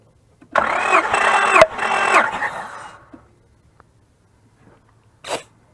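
A 2004 Honda Pilot engine cranks on the starter during a compression test, a steady churning burst of about two and a half seconds with a brief break. A short sharp noise follows after a pause.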